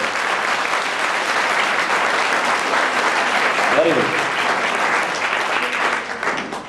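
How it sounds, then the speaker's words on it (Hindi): An audience at a motivational talk claps loudly and continuously in a sustained wash of applause, with a voice speaking briefly over it. "ताली बजाओ जोर से, जोर से"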